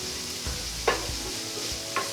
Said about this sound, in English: those mushrooms, peppers, onions and garlic are all ready now. They're nicely sautéed, almost a little bit caramelised